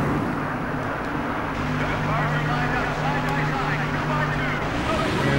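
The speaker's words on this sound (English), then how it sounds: "Engines are fired, and we're ready to go racing." Race car engines in NASCAR Thunder 2004 idle and rumble together at Watkins Glen in a dense, constant low roar, with a voice talking over the steady engine noise.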